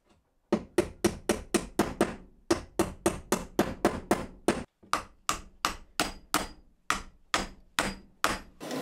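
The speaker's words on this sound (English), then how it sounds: "then I can get my brass rods tapped down into place" A hammer taps brass rods down into glued holes in a steady run of about two dozen sharp, ringing blows, close and evenly paced, with one brief pause partway through.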